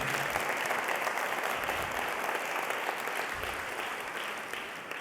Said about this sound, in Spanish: Si le va a aplaudir, apláudale al Señor.